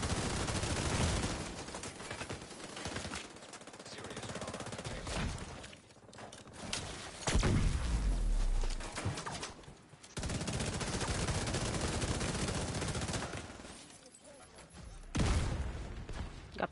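Dense, sustained gunfire from a player-versus-player firefight in the Dark Zone of Tom Clancy's The Division 2, with near-continuous rapid bursts and brief lulls.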